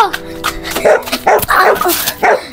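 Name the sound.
dog barking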